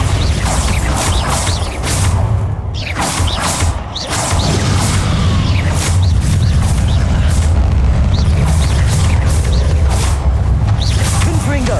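Bombarda explosion spells burst repeatedly during a spell-casting battle in the Hogwarts Legacy video game, loud booming impacts over a continuous clanking, mechanical din, with a few sharp swooshes between the blasts.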